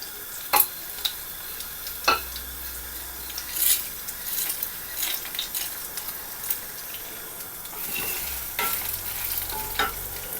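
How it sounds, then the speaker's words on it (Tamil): Dry coriander seeds, cinnamon, cloves and poppy seeds are dry-roasted over a low flame for mutton curry, with scraping stirs against the pan over a faint, steady sizzle. "இந்த வரமல்லி, இந்த பட்டை, கிராம்பு, கசகசா எல்லாத்தையுமே ஸ்லோ ஃபயரில் நம்ம வறுத்துடலாம்."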